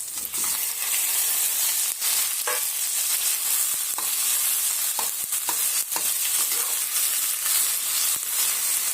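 Half a kilo of cut tomatoes sauté for a spicy chutney, with a constant close sizzle and repeated scraping clicks of the spoon as they are stirred.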